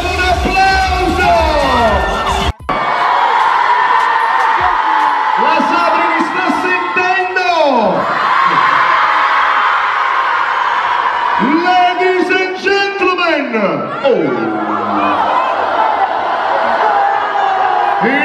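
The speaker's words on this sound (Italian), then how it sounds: "Facciamo un applauso!" A large crowd at Le Cotoniere shopping centre cheers and whoops loudly and continuously, with raised voices and shouts close by and a brief drop near the start.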